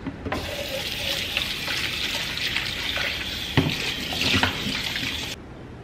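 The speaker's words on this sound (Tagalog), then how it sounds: "Hugasan ko itong mga recado" Tap water running steadily as cooking ingredients are rinsed in a sink, a continuous close splashing stream with a few louder spatters, then an abrupt stop.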